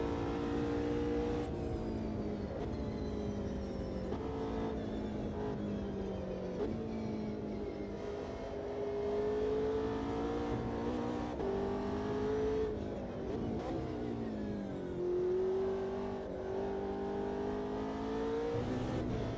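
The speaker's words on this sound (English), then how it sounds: "Deep, mechanical, just raw, raw GT3 car sound." A GT3 race car engine in a driving simulator revs and climbs through gears, with repeated rising pitch sweeps and shift drops, steady and continuous without talk, at a moderate level.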